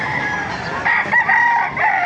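A rooster crows clearly at close range, with other chickens clucking around it, at a poultry market in Baliuag, Bulacan, under a constant crowd murmur.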